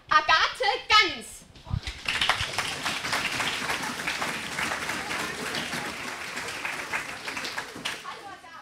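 An audience at a science slam in Salzburg claps and cheers steadily to welcome a young chemist onto the stage, the applause dense and continuous after a few opening whoops and calls.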